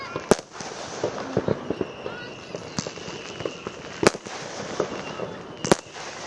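Bonfire night fireworks going off near a university football match: several sharp, loud bangs scattered among lighter crackling pops, with a voice talking over the background noise.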